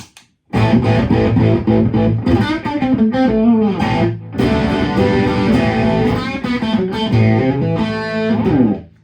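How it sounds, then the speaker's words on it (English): An electric guitar plays a sustained, continuous riff with saturated overdrive distortion, loud and close throughout. "let's do the same thing now with some saturated, distorted, overdrive sound"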